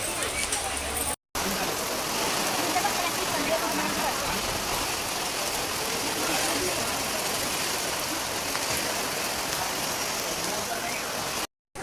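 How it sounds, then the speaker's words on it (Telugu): Heavy rain pours down at an outdoor Tuesday market, a dense, steady roar of drops hitting surfaces that runs loud and unbroken apart from two brief cutouts near the start and end. "మార్కెట్ వచ్చాము, ఫుల్ వర్షం పడుతుందండి"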